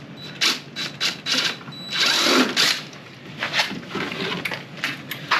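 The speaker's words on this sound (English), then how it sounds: "I'm going to countersink the X where I want this bit to penetrate properly." A drill fitted with a countersink bit cuts into a hole during a Triton TR 186 router rehab, heard as repeated short whirring bursts in an uneven rhythm, close by and fairly quiet.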